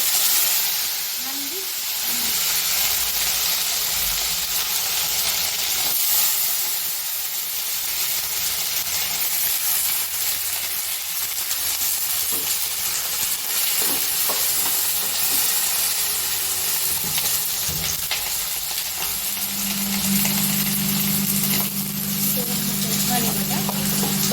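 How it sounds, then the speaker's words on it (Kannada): Eggplant frying in plenty of oil for vangibath, a steady hiss and sizzle running throughout while someone talks over it. "ಎಣ್ಣೆಯಲ್ಲಿ ಬದನೆಕಾಯಿ ಚೆನ್ನಾಗಿ ಫ್ರೈ ಆಗಬೇಕು ಸ್ವಲ್ಪ ಸಾಫ್ಟ್ ಆಗೋವರೆಗೂ"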